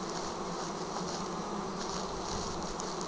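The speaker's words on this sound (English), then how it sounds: "Look at all these bees here behind me." A wild swarm of bees buzzes in a continuous, even drone, with many insects close by and no voices over it.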